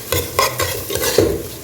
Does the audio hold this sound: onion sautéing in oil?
yes